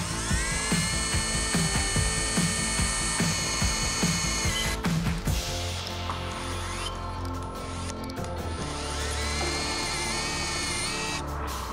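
A lightweight HiKOKI SDS-plus rotary hammer drills slowly through 1 mm steel sheet with cutting oil, giving a loud, close, whining grind with rattling bursts and a steady, continuous drone throughout.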